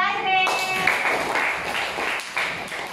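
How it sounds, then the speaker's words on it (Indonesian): A primary school class gives a short round of applause for a pupil, a brief flurry of hand claps under children's voices, moderately loud in a classroom. "Tepuk tangan buat Azril."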